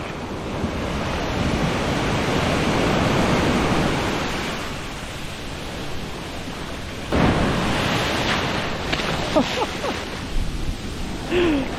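Ocean waves roll and surge close by around El Nido islands, a broad roaring wash that swells and recedes, with a sharper crash of water against rock partway through.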